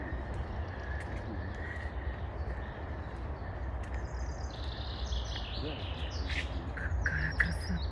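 Birds chirp and call faintly outdoors in Kazan, scattered high notes over a steady murmur of background noise, growing a little busier toward the end.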